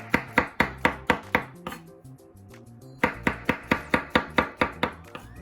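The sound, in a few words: knife chopping vegetables on a board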